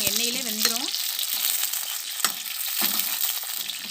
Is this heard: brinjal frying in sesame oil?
yes